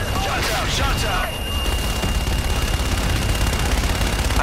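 Gunfire and a rumbling barrage from the Call of Duty: Infinite Warfare video game, during an urban attack, play as a loud continuous wash of shots, with voices talking over it.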